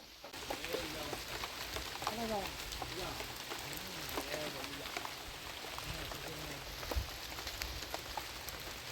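Rain patters continuously on a surface, a soft crackling hiss, while faint voices murmur underneath.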